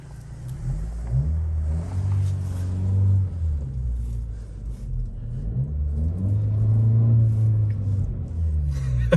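Honda Civic Si with a six-speed manual, its engine rumbling steadily from inside the cabin as revs rise and fall through downshifts, a continuous low drone swelling in two broad waves.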